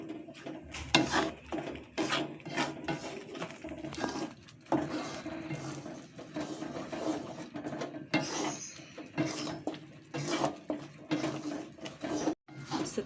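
Pempek seasoning mixture stirred in a pan with a utensil, giving repeated scraping and clattering strokes in an irregular rhythm, close and moderately loud throughout.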